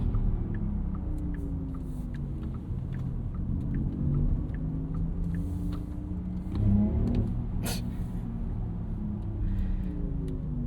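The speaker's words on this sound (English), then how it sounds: "we're gonna do a launch control, unleash the entire 509 horsepower and 604 pound-feet of torque" A 2025 Porsche Macan 4S Electric with 509 hp accelerates hard under launch control: a heavy, steady cabin rumble with a rising electric motor whine, heard close and with no talking.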